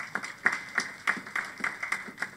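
An audience at a church communion service applauds, a moderate patter of many hands clapping in an irregular rhythm, somewhat distant, with no talk.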